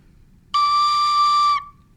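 A single clear, bright woodwind note played with no finger holes covered, held steadily for about a second, close and loud against silence.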